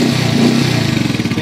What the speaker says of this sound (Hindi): तो ये है इसका एग्जॉस्ट साउंड